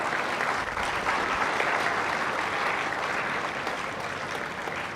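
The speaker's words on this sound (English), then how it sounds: "A big round of applause for Richard Rekhy" An audience at a symposium session claps for Mr. Richard Rekhy after a memento is presented: dense, even applause that holds steady and moderately loud for the whole stretch, with no talk over it.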